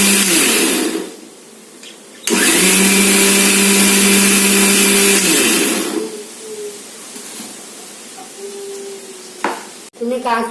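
A mixer grinder whirs as it beats eggs, sugar and vanilla essence, a loud steady motor run in bursts with pauses and clatter between, for a homemade wheat-flour banana cake.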